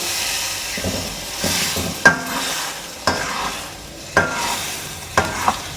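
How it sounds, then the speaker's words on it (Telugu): Tomato puree sizzles in a hot pan for an egg tomato chutney, with a steady hiss broken by repeated sharp scrapes and taps of a spoon stirring the pan. No one speaks. "ఇప్పుడు మన టమాటా ప్యూరీ అయితే వేసేసుకుందాం"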